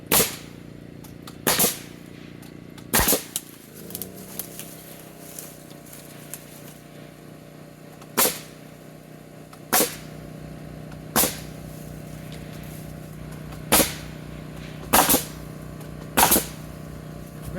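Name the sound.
nail gun shooting joists while framing a deck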